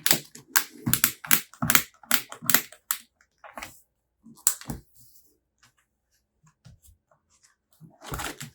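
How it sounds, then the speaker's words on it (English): An envelope being snapped into a Happy Planner, a run of sharp close clicks and crunching snaps in quick succession, then scattered quieter handling noises and a final crackly burst. "I'm going to snap this envelope here."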